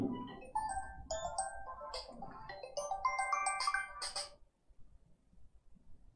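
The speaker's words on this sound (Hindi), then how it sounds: "सॉरी फोन मेरा आ गया, उसके लिए साइलेंट कर दे रहा हूं" A mobile phone ringtone plays a bright, chiming melody for about four seconds, then cuts off, leaving faint room noise.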